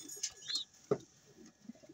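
A racing pigeon in a loft trap gives a few soft, brief coos and calls, quiet and close, separated by near silence.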